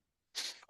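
A single short, sharp sneeze bursts out close to the microphone after a moment of near silence, loud and abrupt with a brief breathy tail.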